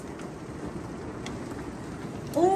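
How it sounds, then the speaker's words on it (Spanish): Hail falls as pure balls of ice in a dense, constant patter, a steady close drumming that grows slightly louder near the end. "es granizo. Vean. Es puro hielo."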